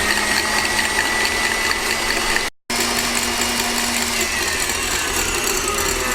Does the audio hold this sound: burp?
no